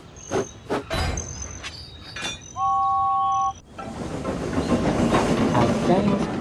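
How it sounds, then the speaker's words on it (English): A toy train of trucks loaded with tea sets runs along the line, starting with a few knocks and a two-tone whistle, then a steady rattling, clattering rumble that builds and carries on. "As James pulled his trucks along the line, he heard the tea sets rattle and shake inside the train."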